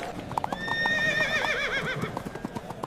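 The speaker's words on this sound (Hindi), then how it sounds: "ये घोड़ा बहुत बढ़िया नस्ल का है, पूरे 5 लाख रुपए का है।" A horse of a fine breed neighs loudly in a long, wavering whinny while its hooves clip-clop in quick irregular steps close by, with no talking.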